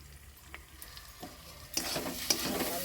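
Fried potatoes with spices are stirred in a pan, a soft sizzle broken by scraping strokes and a few sharp clinks that grow busier and louder toward the end, with no talking.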